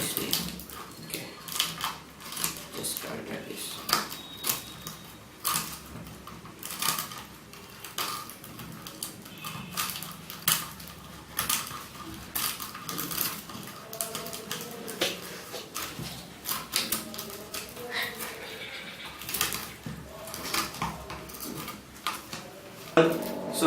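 A plastic bottle is cut apart to make a mosquito trap, giving a run of crinkly crackles, clicks and snips from the thin plastic, close up and continuous with irregular sharp peaks.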